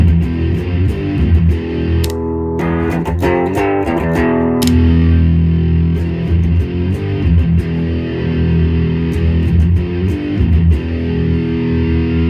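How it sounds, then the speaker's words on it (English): Electric guitar played through a Master Shredder Doom Beast distortion pedal, loud and saturated, with sustained heavy chords and chugging palm-muted riffs, alone with no talk. "sometimes when you kick on your distortion, you want it to sound ferocious, not the same"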